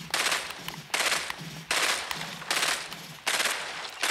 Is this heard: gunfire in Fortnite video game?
yes